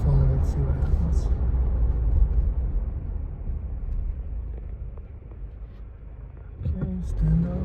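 A 2025 Toyota 4Runner cruising in eco mode on a two-lane highway, giving a steady low engine and road rumble throughout, with brief louder swells near the end.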